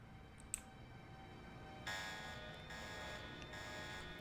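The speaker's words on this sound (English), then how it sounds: "Just an alarm for a noise they heard, because they heard a noise." A facility alarm sounds in the Deus Ex video game, a steady electronic buzzing tone that switches on abruptly after a faint click and keeps droning at moderate volume, pulsing slightly, with no talking.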